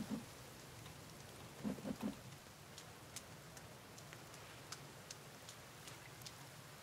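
Steady rain falls in The Forest survival video game, a faint continuous wash with scattered sharp drop ticks and a few low thumps early on, with no voices.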